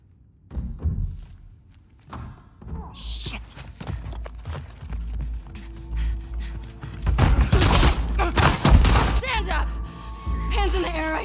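Gunfire and heavy thuds ring out in a tense fight scene from The Last of Us Part II, bursts of shots and impacts clustered near the end, with voices talking between them.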